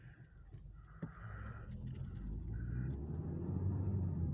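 Cars pass on a road, a low steady rumble that swells gradually toward the end, with faint crow caws above it and no talking.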